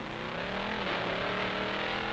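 A 1964 Studebaker Avanti record car running at speed on the Bonneville Salt Flats, its engine roaring steadily and loud with a rising drone, heard alone without talk.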